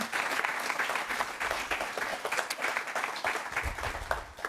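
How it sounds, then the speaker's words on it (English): Audience at a rural America talk event gives a round of applause, with crisp, individual claps audible within a lively, moderately loud crowd sound that fluctuates slightly throughout. "Could we give them a round of applause?"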